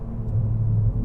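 A 2019 Acura TLX A-Spec's V6 engine idles with a steady low rumble close by, its tone briefly rising and settling as the throttle is blipped, with no talking.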